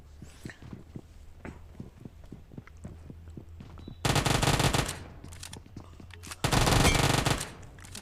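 UZI submachine gun fire in Battlegrounds Mobile India's zombie survival mode: two loud rapid bursts, each about a second long, break in after a stretch of quiet ticking footsteps.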